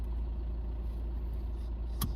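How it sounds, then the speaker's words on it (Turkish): A car engine that has just been started runs at a steady idle, a constant low rumble throughout, with one brief sharp click near the end. "Şimdi arabamızı çalıştırdık."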